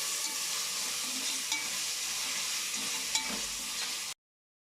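Ingredients for a soya bean biryani sauté in a pan, giving a dense, even sizzle with a few faint scrapes from stirring, close and continuous until it cuts off abruptly near the end.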